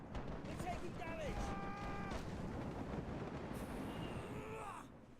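Ship cannons boom during a naval battle in a video game, a dense run of heavy blasts and rumbling under voices and whistling effects, steady and loud throughout.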